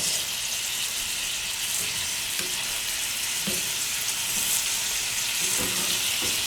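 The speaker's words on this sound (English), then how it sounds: "I'm going to add my garlic. Now you want to be careful, you don't want the garlic to burn at all. So you're going to keep stirring it." Garlic fries in a pan for garlic shrimp, giving a steady, bright sizzle with a few soft stirring clicks. It is close and even throughout, with no talking.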